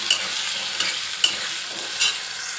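Potatoes fry in a pan on a kitchen stove with a chimney fan running overhead, giving a close, steady sizzle broken by a few sharp clinks and scrapes as they are stirred.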